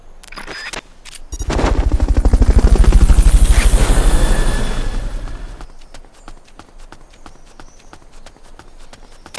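In the Metal Gear Solid Peace Walker video game, a helicopter's rotor thumps rapidly as it swells in loud and close, holds for a few seconds, then cuts off, leaving quieter game sounds.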